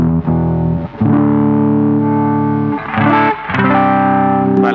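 A PRS S2 SingleCut Limited Edition electric guitar with passive double humbuckers plays heavily distorted chords, each ringing out before the next, three sustained strums in a row with brief gaps, loud and alone.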